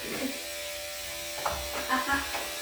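A small electric hair clipper or shaver-like device buzzes steadily at close range, with a continuous hum and a few brief louder bumps near the end.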